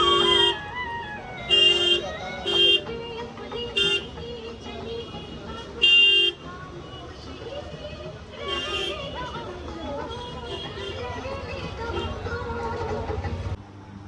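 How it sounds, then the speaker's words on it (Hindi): Heavy city street traffic with repeated car and vehicle horns honking in short bursts over a steady engine rumble, with people talking nearby. "और यहाँ पे बहुत ज़्यादा ट्रैफिक है।"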